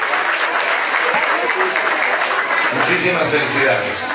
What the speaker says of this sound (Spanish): acompañados con este fuerte aplauso de todos los que estamos presentes el día de hoy